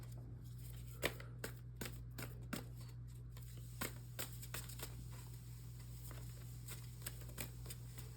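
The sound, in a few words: handling and drawing tarot cards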